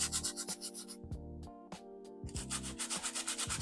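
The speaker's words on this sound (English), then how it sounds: "now we're back working on the cork sidewalk, and I'm just going to lightly sand it." Light sanding of a cork sidewalk piece for a scale model, quick rhythmic rasping strokes in bursts with a short pause midway, close and quiet, no talking.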